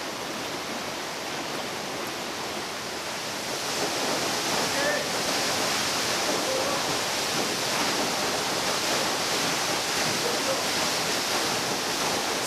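Sipi Falls in Uganda roars as a steady, dense wash of falling water, loud and close, swelling slightly partway through and continuing alone without voices.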